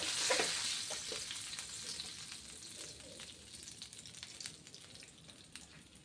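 Mackerel frying in a pan, a steady close sizzle and crackle of hot oil throughout, loudest at the start and easing slightly, with occasional small pops and no voices.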